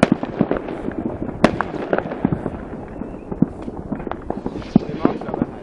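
Fireworks rockets launching and bursting outside a children's hospital, a rapid irregular series of sharp cracks and pops at moderate distance, with people talking intermittently underneath.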